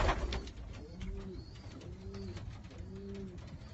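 Janssen Van Loon racing pigeons, mostly yearlings, coo in a loft with repeated soft, low rolling calls in a steady rhythm, faint and close, with a brief rustle at the start.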